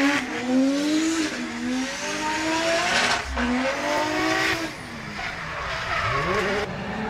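A pro-category drift car fitted with much narrower tyres than usual slides around a track, engine revving in long rising and falling sweeps with sustained tyre squeal, loud and continuous, the pitch dipping and climbing as it changes direction.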